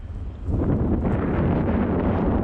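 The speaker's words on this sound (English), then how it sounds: "It is so windy right now." Strong wind buffets the microphone outdoors while a homemade rectangular model aircraft is flown, a constant roaring rush that swells after a brief quieter start and stays loud throughout.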